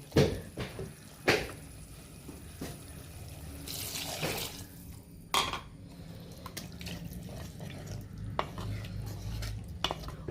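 Water splashes into a pan of Kerala fish chilli curry with tomatoes, followed by stirring and the clink of a spoon against the pot, several sharp knocks standing out over a soft, steady background.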